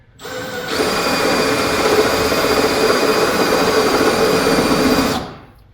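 A power drill fitted with a one-sided countersink bit whirs steadily into metal, a loud close continuous spin lasting about four and a half seconds before winding down.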